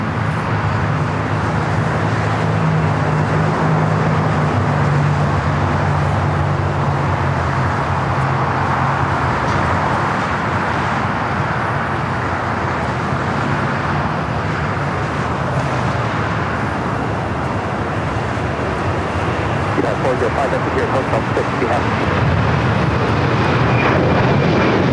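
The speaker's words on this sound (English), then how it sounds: "Latam at 767 at 300 ER, now rolling down at 25 right" A LATAM Boeing 767-300ER rolls down runway 25 Right at LAX on its takeoff run, a loud, sustained engine roar that holds steady for the whole stretch and swells gradually, with no one talking.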